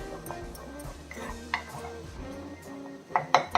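Metal spoon scraping and clinking against a pot as thick kara chutney is stirred, with a few sharper clanks near the end and faint background hum.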